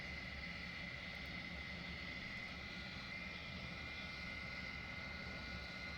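Just Flight Hunter, a vintage jet, in a flight simulator game: a steady, loud engine roar with a sustained whine, continuous and unchanging throughout.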